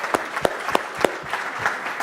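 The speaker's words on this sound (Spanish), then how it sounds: "Hagamos un aplauso a esa idea, por favor." Audience applause at a port-industry panel discussion, a scattering of distinct hand claps with a few sharper individual claps standing out, moderate in level and fairly sparse rather than a dense ovation.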